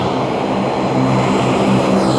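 A small propeller airplane flying into Kyrgyzstan drones loudly and steadily, a dense, unbroken engine roar with no talk over it.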